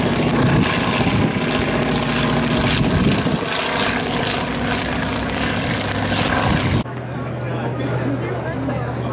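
An antique propeller airplane makes a loud, close high-speed pass at a rainy airshow. The engine roar swells and then drops in pitch as it goes by, and crowd chatter carries underneath.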